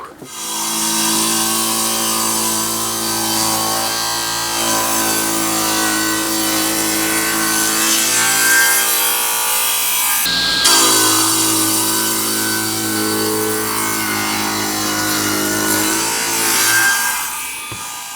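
Power saw cutting wood blocks for an end-grain butcher-block cutting board, a continuous loud hum with steady tonal bands lasting the whole stretch and a brief dip near the middle.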